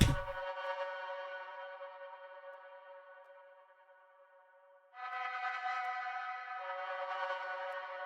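A sustained, bright tonal drone from a texture sample bank hangs alone and slowly fades, then a new layered tone swells in and holds, shimmering steadily.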